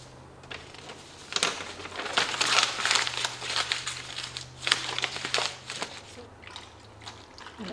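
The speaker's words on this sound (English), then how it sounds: "We'll scrunch that up, put it in the blender." Waste office paper being crumpled and scrunched by hand for pulping, crinkly bursts rising and falling over several seconds against a low background hum.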